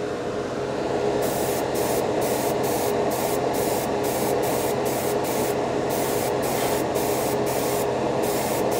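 A Paasche H Series airbrush sprays paint onto a spoon, a steady close hiss running throughout with brief rhythmic interruptions of the airflow as the trigger pulses.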